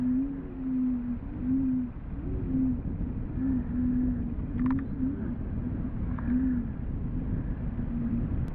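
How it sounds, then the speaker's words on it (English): A bird in an analog horror video game calls with a low, repeated cooing hoot, steady rhythmic phrases recurring every second or so over a constant hum, with no talk. "That bird sounds like it's having a great fucking time, though."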